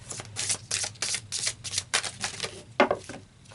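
Oracle cards are shuffled and pulled from a deck, making a quick run of crisp riffling flicks and papery snaps close by, with one louder slap near the end and no talking.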